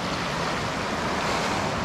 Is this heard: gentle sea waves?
yes